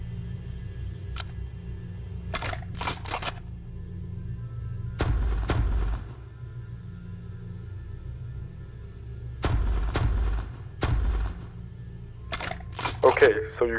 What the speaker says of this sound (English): Just shoot twice if you can read this.